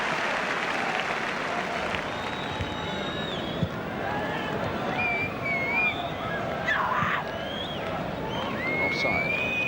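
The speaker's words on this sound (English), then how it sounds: "quite deservedly getting a great round of applause" A football stadium crowd applauds a Crystal Palace or Manchester City player leaving the pitch, a broad roar of clapping with whistles and a commentator talking over it.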